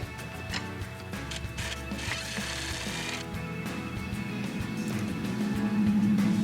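A ratchet wrench turns a nut off a bed rail bolt on a Fleetwood pop-up camper, its rapid, steady clicking running close and continuous for several seconds.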